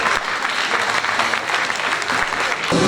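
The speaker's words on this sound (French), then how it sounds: "Je vous demande de l'applaudir bien fort." A crowd at a festival queen election evening in Hagetmau applauds loudly and steadily for a few seconds, with a faint voice near the end.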